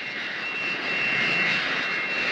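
An arriving airplane's engines roar loudly and steadily, a close, sustained whine-laden drone that swells slightly midway, with no voices over it.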